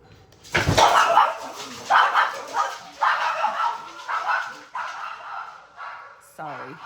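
Dogs barking excitedly at a home delivery, a run of loud, close barks in bursts about a second apart, ending with a short whimpering yip.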